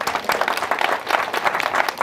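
Guests at a family wedding-anniversary celebration applaud, a dense, lively burst of many hands clapping together, steady and fairly close throughout.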